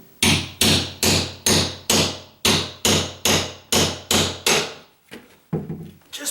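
A nail puller is struck repeatedly to work a wall shelf off drywall: about ten sharp, evenly spaced impacts ring out close by, followed by a pause and a couple of softer knocks.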